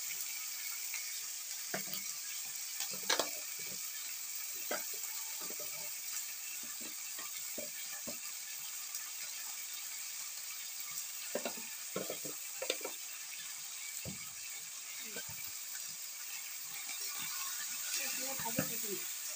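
Meat frying in a pan with turmeric and salt, a steady soft sizzle running throughout while a spoon stirs and scrapes, giving scattered clinks and scrapes, with faint speech in the background.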